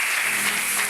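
A church congregation at a Sunday service bursts into sustained applause, dense and even clapping filling the whole moment.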